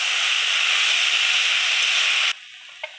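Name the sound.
stirring kalmi saag in a pan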